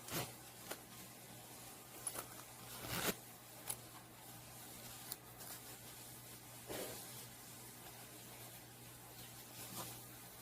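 A zipper on a handmade red fabric pouch is run open and shut several times, giving brief close rasping strokes separated by quiet pauses, with no talking.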